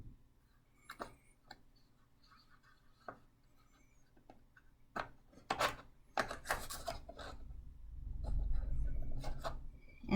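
Paper is rubbed and scraped by hand for a 4-H craft project, giving faint, close, irregular rasping strokes that grow into a denser rub toward the end in a quiet room.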